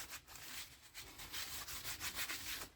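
Fingerprints wiped off the front brake disc of a Mazda MX-5 NC: quiet, quick back-and-forth rubbing strokes in a steady rhythm, heard close up without speech.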